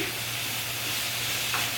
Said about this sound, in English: you hear that sizzling?